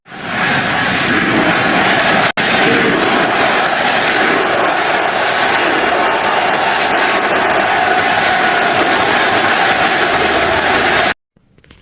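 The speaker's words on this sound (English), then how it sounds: "ended with a united crowd cheering for their home country" A large stadium crowd at a baseball game roars continuously, a dense, loud, sustained cheer with chanting of USA blended into the din. The noise cuts off abruptly near the end.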